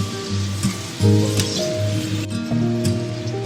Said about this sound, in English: So while that's simmering away a bit